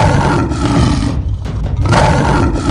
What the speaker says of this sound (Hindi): तभी वहाँ शेरा का दहाड़ने की आवाज आती है